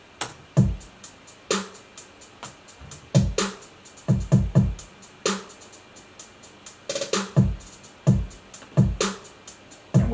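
A hip-hop drum loop plays alone, with layered punchy kicks and a sharp snare in a steady syncopated pattern under a continuous ticking of two hi-hats, close and clear.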